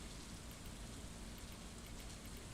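Steady rain falls in the video game Stardew Valley, a constant even hiss of drops on the ground with no voices over it.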